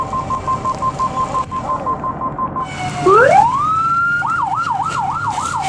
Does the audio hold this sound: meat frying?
no